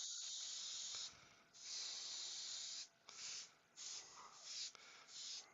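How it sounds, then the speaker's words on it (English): An airbrush spraying bright yellow paint for woodturning texture and colour work gives hissing bursts in several separate pulses, from one long spray to shorter blasts, close and fairly loud with no talk. "where did you get the airbrush from, mate?"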